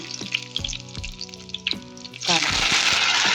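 Hot oil sizzles in a pan as salt goes in, a steady frying crackle that grows louder and denser toward the end, under a background of music.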